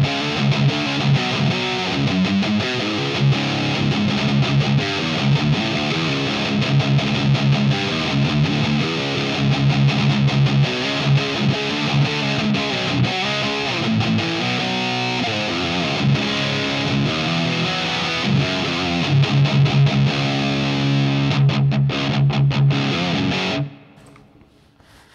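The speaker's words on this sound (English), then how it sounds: "when you bring up the gain, it really gets fuzzed out" Thick, heavily distorted electric guitar riffing through an Orange Super Crush 100 solid-state amp with gain fully cranked, saturated and fuzzy, loud and sustained, cutting off abruptly near the end.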